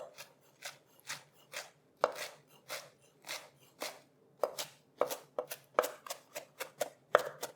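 Ingredients for Santorini tomato fritters are chopped with a knife on a board: a steady run of about twenty crisp, close thuds that quicken toward the end, with no talk.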